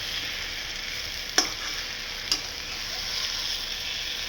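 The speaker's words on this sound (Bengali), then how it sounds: "মেন কাজে লেগে পড়েছি যুদ্ধ করতে, কষানি, যেটা মাংসের আসল কাজ। তো শব্দটা শোনো কেমন হচ্ছে শব্দটা।" Meat braised with spices in a pan (kosha) sizzles in a steady, bright hiss, broken by two sharp clicks of a utensil against the pot, close and without talk.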